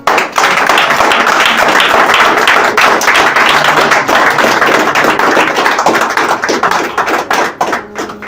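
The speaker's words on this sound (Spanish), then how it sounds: "Dale un aplauso al Señor." Church congregation applauding together, a dense, steady wash of many hands clapping at close range that holds strong for about seven seconds and then begins to thin out.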